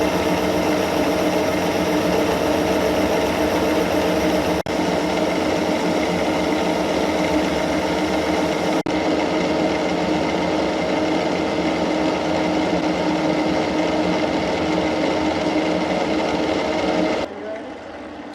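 A metal lathe facing off a small steel workpiece for a wheel arbor, giving a steady, loud machining whir and drone that runs continuously for most of the clip before dropping abruptly near the end, with no talk.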